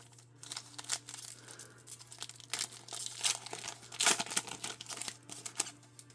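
A 2024 Select football trading card pack wrapper is torn open with crinkly foil rips and crackles that come in irregular bursts, close and fairly loud, over a faint steady hum.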